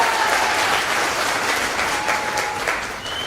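Sustained applause from an audience at a felicitation gathering in Firozabad, dense and steady throughout with no voices over it.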